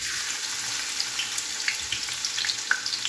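Garlic and onion sautéing in a hot pan give a steady, close, hissing sizzle scattered with small crackling pops, with no voices over it.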